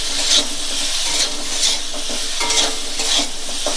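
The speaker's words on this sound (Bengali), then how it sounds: "আলুগুলো নাড়াচাড়া করে এর মধ্যে একটু লাল লাল মতন হয়ে ভাজা হয়ে যাবে" Potatoes fry in hot ghee with chili powder while being stirred, giving a steady close sizzle broken by regular scraping stir strokes, with no talking.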